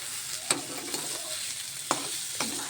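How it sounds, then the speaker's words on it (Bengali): Beetroot, carrot and small potato pieces frying in a pan make a faint, steady sizzle broken by a few sharp spatula scrapes and taps; no voices. "এই যে বিট গাজর একটু ছোট ছোট আলু দিয়ে ভাজা করেছি।"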